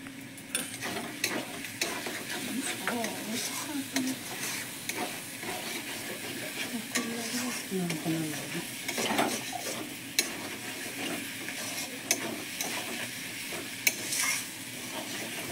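Fish fries in oil in a wok, a steady crackling sizzle that runs throughout, with occasional stirring and scraping of pan and utensil close by.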